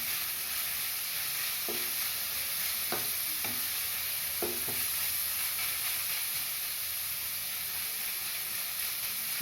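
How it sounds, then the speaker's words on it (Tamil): Carrots and onions sautéing in a pan, a steady hissing sizzle with a few sharp spatula taps and stirring scrapes, no voices. "கேரட்டும் 2 நிமிஷம் வதங்கணும்."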